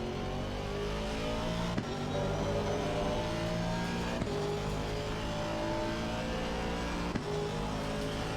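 An Aston Martin race car on the Misano circuit in a racing video game roars loudly and steadily as it brakes, with engine pitch sweeping down through repeated downshifts marked by sharp gear-change blips, and no talk.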